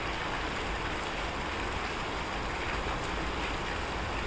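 Rain falls steadily during bad weather at a rural home, a dense, even hiss of drops on surfaces that stays constant throughout without any talking.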